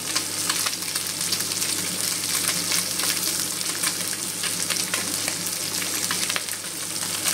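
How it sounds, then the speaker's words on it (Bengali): Small mourola fish fry in hot oil in a pan, making a dense, continuous crackling sizzle with scattered sharp spits and pops, close and even throughout, with no voices. "এক পিঠ ভাজা হয়ে গেলে উল্টে পাল্টে ভেজে নেবো এটাকে ভালো করে"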